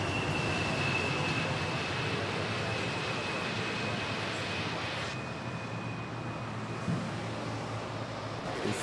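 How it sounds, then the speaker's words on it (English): Airliner passing high overhead near Manila Airport, a steady broad distant roar holding evenly throughout with a faint thin whine, no talk. "Oh, wow, we have a flyover."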